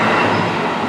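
Airport train to Kyoto, heard from the gap between carriages: loud, continuous rumbling rail noise with a steady broadband roar and no voices over it.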